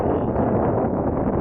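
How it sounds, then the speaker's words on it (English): Gusty wind buffeting an outdoor microphone at a model airplane flying field on a windy day, a steady low rumbling roar filling the whole moment with no clear breaks. "this little bit of wind gusts that we keep getting, it could be interesting"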